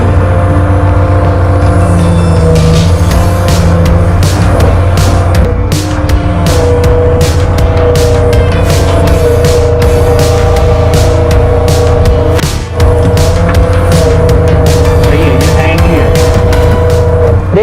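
A JCB backhoe's diesel engine roars loud and close as the hand throttle holds it at high revs, a steady droning hum with rapid clattering pulses that dips briefly once.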